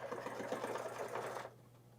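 A close sewing machine hums in a fast, even stitching run on a pouch, stopping abruptly just before the end and leaving a low background hum.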